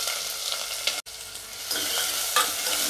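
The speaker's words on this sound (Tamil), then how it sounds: "வெங்காயம் வதங்கட்டும்" Small shallots sauté in hot oil with green chillies, giving a dense, continuous sizzle close by, broken by one brief cut-out and an occasional stir, with no voices.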